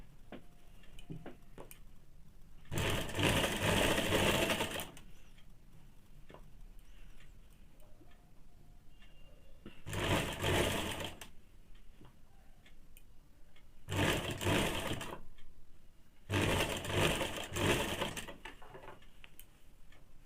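A sewing machine stitching a wide strip onto a Bombay cut blouse runs in four separate bursts of a few seconds each, with quiet handling sounds between them.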